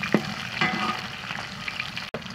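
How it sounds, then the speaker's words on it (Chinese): Fatty pork belly sizzles and spits as it stir-fries in a hot wok to render out its oil, a continuous crackling hiss with a few sharper pops and clinks of the spatula and no talking. "来，把肥肉下锅。 先炒一下，把油炒出来。"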